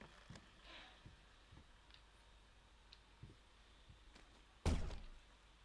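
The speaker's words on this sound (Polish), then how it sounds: "Chyba petarda wybuchła w puszkach z farbą." Scattered faint thunks and ticks, then one sharp loud bang with a short decaying rattle near the end, a firecracker bursting among paint cans in the horror game Layers of Fear, otherwise quiet.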